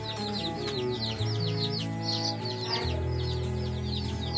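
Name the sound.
desi country chicken chicks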